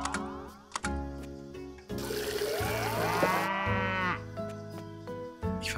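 Cattle on a farm in Doraemon Story of Seasons, with repeated loud moos standing out over soft game chimes and a burst of splashing water in the middle.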